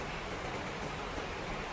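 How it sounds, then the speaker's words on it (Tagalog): Heavy rain pours down steadily, a dense even hiss with no breaks, moderately faint and uninterrupted by speech. "Ang lakas po ng ulan"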